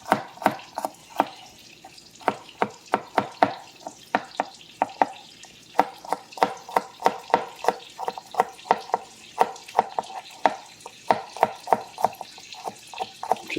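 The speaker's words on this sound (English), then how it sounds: "Chicken's smelling good already. Hear that sizzling," Chicken sizzles in a pan with fresh garlic, with a steady hiss broken by frequent sharp clicks and scrapes from stirring at an irregular, busy pace, close and fairly loud, with no voices.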